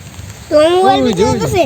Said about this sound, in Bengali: এই যে বৃষ্টি শুরু হয়ে গেছে